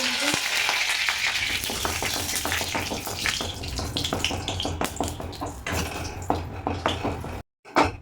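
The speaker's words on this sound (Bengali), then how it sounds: "কড়াই গরম হয়ে গেছে, অল্প পরিমাণ তেল দেব। গরম হয়ে গেছে, কারি পাতা দিয়ে দেবো।" Curry leaves hitting hot oil in a wok for moong masoor dal, a steady crackling sizzle with sharp pops throughout, close and fairly loud, ending in a brief silence and a final clatter.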